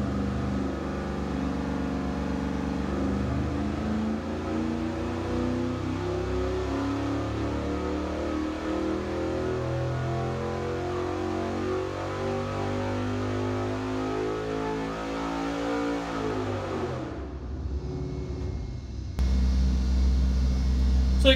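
A junkyard LS V8 test engine runs steadily for about seventeen seconds with a loud, even rumble, then cuts out abruptly, leaving a brief lull before a constant hum of the shop or dyno equipment returns.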